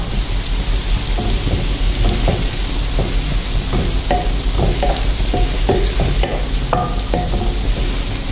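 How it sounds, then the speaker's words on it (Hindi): Onions and cumin seeds sizzling steadily in hot oil for a spicy okra dish, a close, loud, continuous crackle with scattered spoon scrapes and stirring clicks and no talk. "यहाँ पर आप देख सकते हैं प्याज जो है ब्राउन करने लग गई"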